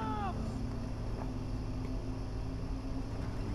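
Car engine rumble from The Last of Us video game, a steady low drone of driving with wind-like noise over it and a brief descending tone at the start.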